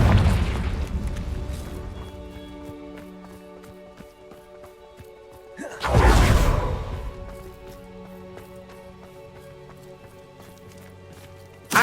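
A Confringo fire-blast spell bursts in Hogwarts Legacy, a single loud explosive whoosh near the middle of a busy game soundscape, with a sharp snap right at the end.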